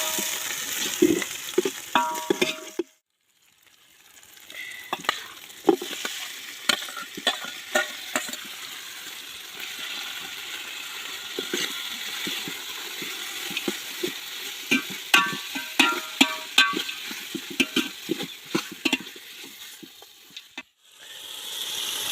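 Cut tomato pieces and masala frying in a pot for a village-style biryani, with a steady sizzle broken by repeated scraping stirs and clatter. There is a short quiet gap near the start and another near the end.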